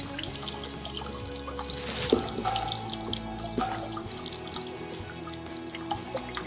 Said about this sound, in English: always using the tangent draw off when I'm cleaning out the braising pan